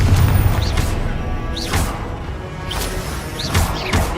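Confringo blasting spell explosions in the Hogwarts Legacy game, a dense, loud roar of repeated booms with swooshing bursts roughly every second, continuous and close.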